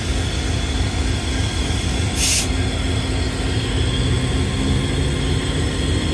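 Heavy, continuous low rumble of a diesel freight locomotive rolling past, a steady droning roar with a faint hiss and hum riding on top.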